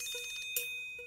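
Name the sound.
phone message notification tone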